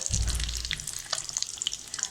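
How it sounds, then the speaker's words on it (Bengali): Chicken egg chops deep frying in hot oil over high heat, a steady crackling sizzle with a soft low thump at the start as something settles into the pan. "ডিম চপগুলো ভাজার সময় কিন্তু চুলার আঁচটা হাই রাখতে হবে।"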